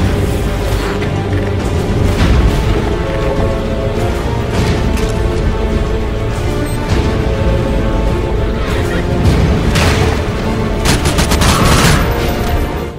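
Dense, continuous game combat in Half-Life 2: rapid gunfire and a grenade blast blend into a loud, unbroken wall of sound with booming impacts throughout.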